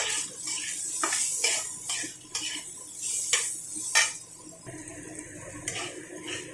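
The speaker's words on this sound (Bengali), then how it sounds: "দিয়ে এবার খুব সুন্দর করে নাড়াচাড়া করে ভেজে নেব" Tomato, carrot, onion and green chilli stirred in a pan over a low gas flame, a metal spoon scraping and clinking against the pan in irregular strokes, close by with no talk.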